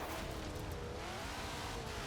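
Twin Mill car in Forza Horizon 4, a build of nearly 2000 horsepower, accelerating hard: a steady, loud engine roar with rising pitch and no breaks over two seconds.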